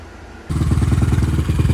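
A Suzuki LTR 450 ATV engine fires up abruptly and settles into a loud, close, steady idle with a rapid pulsing throb after its throttle position sensor is replaced.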